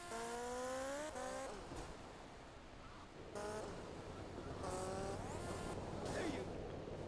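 Car engine whining and revving in Grand Theft Auto: Vice City, its pitch rising and falling in several short bursts over game background noise.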